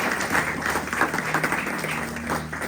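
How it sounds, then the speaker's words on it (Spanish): A church congregation breaks into steady, dense applause that fills the room evenly, close and fairly loud, with a faint murmur of voices mixed in. "¿Y cuánto le dan un aplauso a Dios por eso?"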